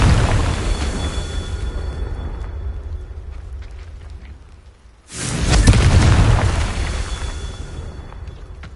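Two booming blasts from the Confringo spell in a Harry Potter video game, each a loud rumbling burst that slowly fades, the second erupting about halfway through and louder than the first.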